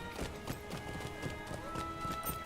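Steady clip-clop of horse hooves from the Yule Festival Glittering Horse mount in the online game Lord of the Rings Online, a quick even trotting rhythm close up with no talk over it.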